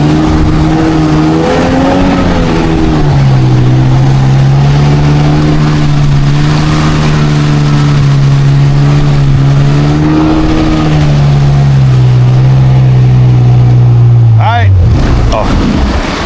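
A jet ski engine runs steadily through a ride on a lake, its loud droning note holding even and rising slightly in pitch before dropping off abruptly near the end.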